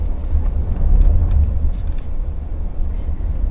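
Toyota Camry interior while driving, a steady low engine drone and road rumble, continuous and fairly loud with a few faint higher clicks over it and no talk.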